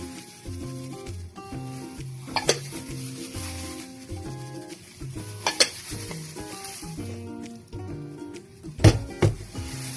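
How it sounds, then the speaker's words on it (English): Dry ingredients for lemon and raisin cookies, including flour and salt, being mixed in a bowl, a steady scraping and rubbing of the utensil with occasional sharper knocks against the bowl, heard close over faint background music. "mix all the dry ingredients to a bowl"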